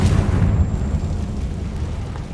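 A Confringo fire spell bursting in Hogwarts Legacy, a loud low booming blast at the start that rumbles on and slowly fades, alone without voices.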